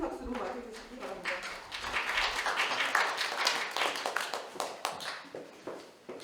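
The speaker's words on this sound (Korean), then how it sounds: "큰 박수로 맞이해주시기 바랍니다" An audience at a Korean national strategy academic conference claps to welcome a university professor to the podium, a dense round of applause rising after a brief voice and tapering at the end.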